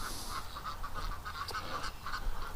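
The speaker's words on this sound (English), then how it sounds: "We got some ducks that are locked in the barn." Ducks shut inside a barn, giving repeated quacks and honking calls in an irregular rhythm over steady background noise, moderately faint and with no one speaking.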